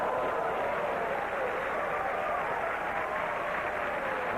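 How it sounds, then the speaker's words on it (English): A capacity crowd at the 1987 PBA Showboat Atlantic City Open bowling tournament produces a sustained, even roar that fills the arena without distinct peaks. "Listen to this capacity crowd. They are enthusiastic, and they'll react to anything"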